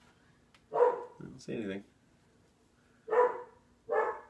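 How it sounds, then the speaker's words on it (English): A dog barks in short bursts, three separate barks spaced over a few seconds, fairly close, with someone speaking briefly between them. "I don't know what he's barking at."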